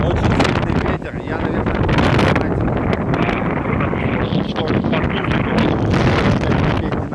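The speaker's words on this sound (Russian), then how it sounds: "Очень сильный ветер." Very strong wind at the sea buffets the microphone with a loud, constant roar and heavy gusty rumbling, near and overwhelming throughout.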